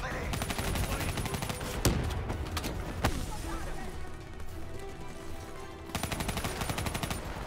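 Rifle fire from Call of Duty Black Ops 3 rattles in rapid automatic bursts at the start and end, with a few heavy single cracks between them over a dense battle soundscape.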